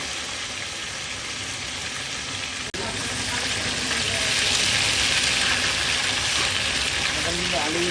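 Pieces of rohu fish slide into a simmering potato curry, a sharp splash-like hit followed by a louder, sustained hiss and bubbling sizzle that fills the pan, with a voice speaking over it.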